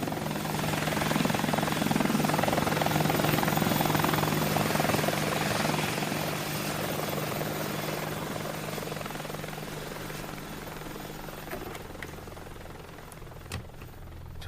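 A helicopter flies nearby, its rotor and engine making a loud, steady broadband drone that slowly thins and fades toward the end, with no voices.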